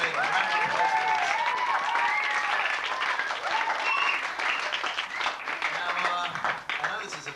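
An audience gives a sustained round of applause at a teen camp debate, dense clapping with voices and cheers mixed in throughout, tapering slightly near the end.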